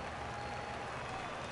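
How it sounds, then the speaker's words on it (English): A baseball crowd rises and cheers for a full 3-2 count, a distant, steady wash of applause and crowd noise, faint and unbroken. "Crowd gets up for the 3-2."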